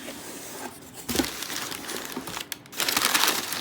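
Brown packing paper crinkles and rustles as a paper craft order is unboxed, with bursts of loud close handling separated by a brief quieter pause.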